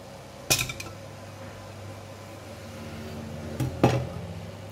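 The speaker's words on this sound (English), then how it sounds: "Okay, boiling water here. I'm going to put in the tofu." Soft tofu placed into a steamer pot over boiling water, heard as two sharp clinks of a pot lid and dish against metal, separated by a low steady kitchen hum.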